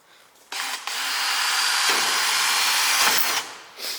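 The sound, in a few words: power tool grinding and sanding fiberglass on car wing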